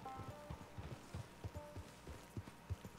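Horse hooves clip-clop at a slow, uneven walking pace in the Red Dead Online game, soft and fairly quiet, with faint creaks and no speech.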